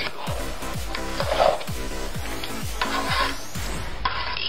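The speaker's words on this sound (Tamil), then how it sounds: "பரப்பிட்டு ஒரு கிண்டு நல்லா கிண்டிடுங்க." Mushroom biryani is stirred and spread in a pot with repeated scraping, rubbing strokes in a loose rhythm, close and moderately loud, with no voices.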